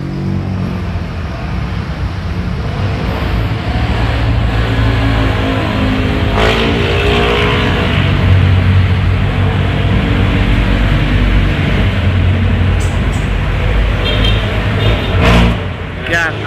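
Cold engine of a Mitsubishi L300 Versa Van idling with the heater on, a steady low rumble with a constant hiss, heard close and continuous for the whole stretch.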